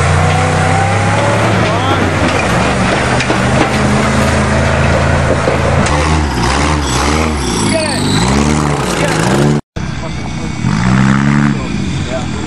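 A bus and a truck race at a farm, engines roaring and revving close by with rising and falling pitch as they pass, under excited shouting and talk from onlookers.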